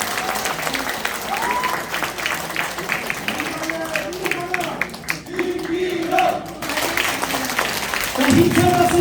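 Loud, sustained applause from a hall full of party members at a 2023 Suwon political party education event, hearty clapping with voices calling out over it, swelling again near the end.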